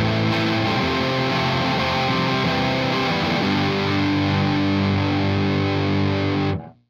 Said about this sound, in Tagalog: Alam ko marami sa inyo na dudumihan at natatabaan sa tunog na binibigay ng fuzz.